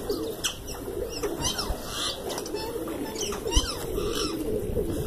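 Pigeons, including black Sherazi and Gandedaar breeds, coo and murmur in a low, steady chorus, with a few sharp chirps and flutters scattered over a busy outdoor background.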